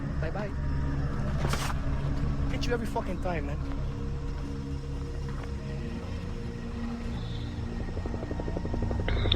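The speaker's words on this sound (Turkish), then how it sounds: "helikopter sesi geliyor" A steady, droning helicopter rotor hum from the video game Far Cry 3 runs throughout at a constant level, with a voice talking over it.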